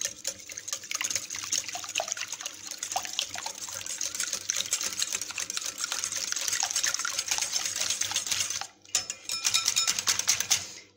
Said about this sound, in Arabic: وغادي نطربو هاد 4 البيضات مزيان